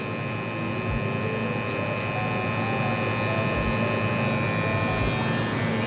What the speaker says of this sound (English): I'm gonna use this right corner of my clipper